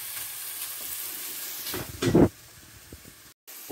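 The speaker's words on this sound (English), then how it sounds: "that's the chicken been frying for a couple of minutes in the very hot, the hottest heat" Chicken pieces fry in a pan over very high heat for a curry, giving a steady, soft sizzling hiss that swells into a louder crackling burst midway, then drops out briefly before resuming, with no voices.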